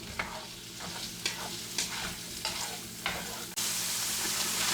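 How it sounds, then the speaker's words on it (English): Bite-sized pork chop pieces sizzling in hot lard in a pan, with a utensil stirring and scraping through them in a steady rhythm of about one stroke per second, close and continuous, no talking. "I like to get all the meat stirred up so it all gets some of the lard on it on all the sides of it."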